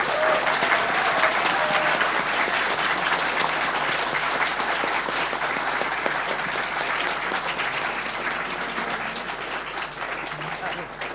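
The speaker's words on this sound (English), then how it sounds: "Shall we get another round of applause?" Sustained audience applause after a panel discussion, loud, dense and steady for about eleven seconds, tapering slightly toward the end with some voices mixed in.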